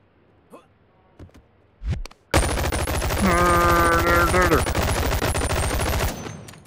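Gunfire in the VR shooter game Boneworks sounds as a loud, close, continuous automatic burst lasting several seconds, after a few soft thumps and clicks, with a voice briefly audible over the firing.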